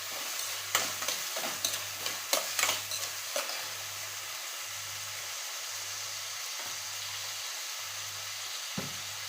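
Chopped tomato sizzling in hot oil in a pan, stirred with quick scraping strokes early on, then a steady fry with a regular low pulsing hum underneath.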